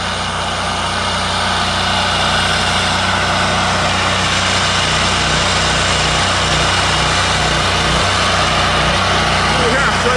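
A portable generator's small engine runs without pause, a loud, steady hum close by that stays unchanged from start to finish.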